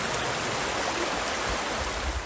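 Creek water flows steadily in a close, broad rushing hiss along a local nature preserve, constant and even with no voices.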